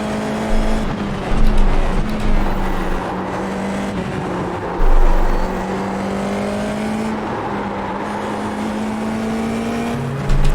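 Formula 4 race car engine in the iRacing simulator at Oulton Park, a sustained buzzing high-revving drone rising and falling through gear changes, steady and loud without speech.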